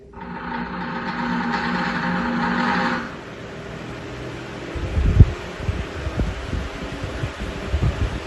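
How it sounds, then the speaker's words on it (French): An electric fan powered through an LSC Smart Connect plug whirs with a steady hum for about three seconds, then cuts out, leaving a quiet room with soft knocks and rustling. "Alexa, allume le ventilo s'il te plaît."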